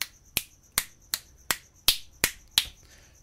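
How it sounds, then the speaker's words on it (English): Eight crisp finger snaps at a fairly steady pace, sharp and close against a quiet background with faint hiss. "you can hear that there is a fairly decent set of stereo width"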